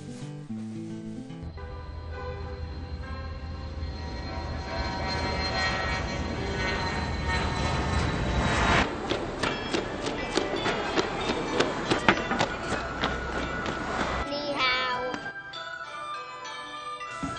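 A fixed-wing airplane flying toward Beijing, a loud steady engine roar that swells and holds, with shifting whine and rumble and some bright clatter through the middle, no voices heard.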